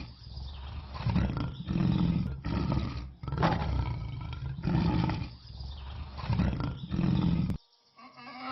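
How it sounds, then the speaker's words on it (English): A lion roars in repeated long, deep, rumbling bursts with short breaths between them. The calls are loud and close, with no other sound and no speech. "lion, lion,"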